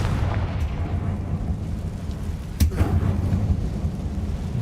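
Confringo blasting spell explosion in Hogwarts Legacy: a rumbling, thunder-like roar underneath with one sharp burst partway through, followed by a continued low rolling boom.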